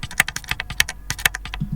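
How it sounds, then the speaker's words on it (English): AI-generated keyboard typing effect made with ElevenLabs: a quick, crisp run of close-up key clicks in uneven bursts with brief pauses, plainly audible and without voices. "Let's try keyboard typing."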